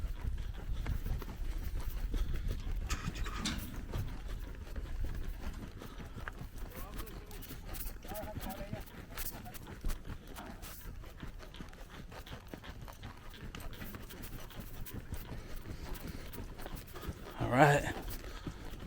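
Hooves of a horse about to be ridden for roping, clip-clopping and shuffling at a steady pace close by under light outdoor noise, with one brief louder knock near the end.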